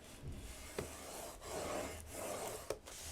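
A scoring tool drawn along paper, soft scraping strokes with a few distinct clicks and taps in between, close and quiet with no talking.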